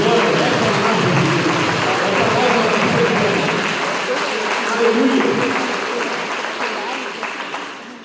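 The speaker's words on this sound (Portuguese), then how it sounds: "Vamos aplaudir a palavra de Deus. Um aplauso de glória." A church congregation claps together during a worship service, a sustained, roomy round of applause with murmured voices underneath, gradually easing off toward the end.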